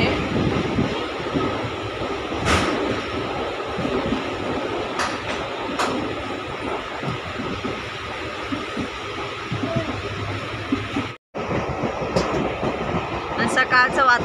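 Express train bound for Hubli rolling along on a cool morning, a steady loud rumble and rushing noise from inside the moving coaches with occasional clacks and a brief dropout, while a person speaks over it.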